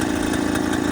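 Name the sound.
Bultaco Alpina 350 motorcycle engine running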